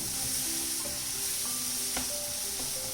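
Onions sauté in a hot pan with a continuous close sizzle, broken by a few sharp stirring clicks and scrapes, with no voices.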